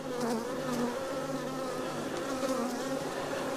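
Honey bees buzzing around a brood frame in an open hive, a dense, continuous, close drone of many wings, with no talking.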